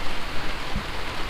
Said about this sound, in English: it's raining outside and trying to snow.